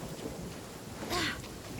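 Steady rainfall in the video game Genshin Impact, with a short rumble of thunder breaking through partway.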